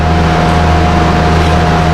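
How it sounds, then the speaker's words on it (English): A Ford 6.9 IDI diesel engine idles in a garage with a loud, steady drone and a constant tonal hum, unbroken and close throughout. "The musical sounds of the garage will have the diesel running"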